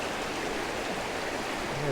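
A small waterfall pours into the Cheticamp River in Cape Breton, heard as a steady, distant broadband rush of flowing water throughout, with faint low rumble underneath and no clear talk.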